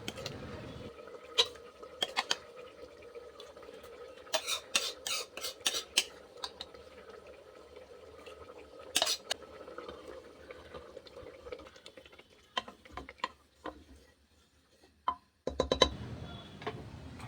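Mutton going into a pressure cooker and being stirred, with scraping and clinking of a metal spoon against the pot, bursts of rapid taps, and a steady low kitchen hum underneath, close and moderately quiet.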